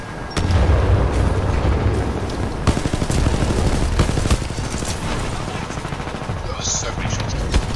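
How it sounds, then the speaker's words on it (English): Rapid, sustained video game gunfire in a 5v5 capture-the-flag match, loud overlapping bursts and explosions rattling continuously, with voices talking over the battle. "That was so many shots."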